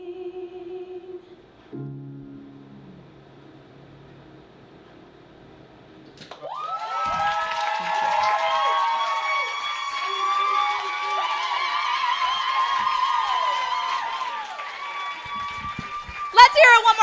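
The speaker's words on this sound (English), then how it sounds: "Let's hear it one more time for Isa!" Live audience at a comedy and music show breaks into loud sustained cheering and applause with whoops, rising after a quieter stretch of sung and spoken performance and holding steady to the end.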